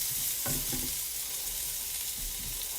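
Blue and sweet potato pieces with dried rosemary and sage browning in a pan over medium heat, a steady close sizzle with a few stirring scrapes near the start and end.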